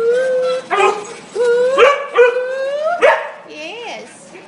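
A rescued dog howls in a series of rising, wavering cries, close by, ending with softer whimpering yips.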